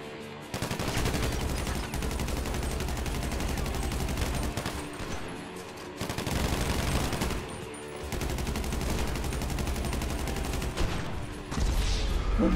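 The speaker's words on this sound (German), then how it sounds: "Der schießt einfach durch die Wand doch." Gunfire in Grand Theft Auto V Online, dense rapid automatic bursts running almost continuously for about twelve seconds, loud and close, with brief pauses near the six- and eight-second marks.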